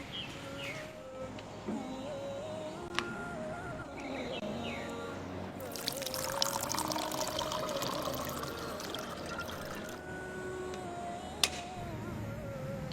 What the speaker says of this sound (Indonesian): Nyalakan keran secukupnya ketika berwudu.